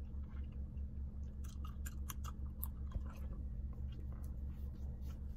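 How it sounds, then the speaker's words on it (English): Someone chews gum with wet, smacking mouth sounds, a string of small clicks and squishes over a low steady hum, close and fairly quiet, with no talking. "I'm sorry for all the chewing, y'all, bro."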